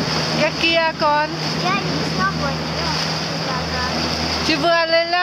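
A small motorboat's engine drones steadily on a crossing from the Kélenn to the port of Carantec, with wind and water noise around it and people talking close to the microphone.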